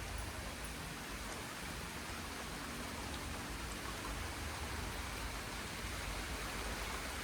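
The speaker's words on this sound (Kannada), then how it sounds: "ಜಸ್ಟ್ ಇನ್ 2 seconds ಮಳೆ ಡರ ಡರ ಡರ ಡರ ಅಂತ ಸುರಿಯುತ್ತೆ" Heavy rain pours down in a steady, dense hiss, loud and continuous with no gaps or voices.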